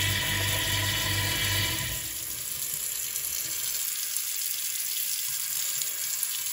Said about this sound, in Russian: Даем проточной воде поработать и пускаем.